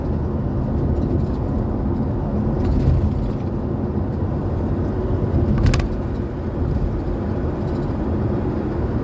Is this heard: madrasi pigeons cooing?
no